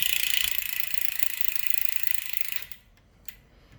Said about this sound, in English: That free hub's getting a little loud too.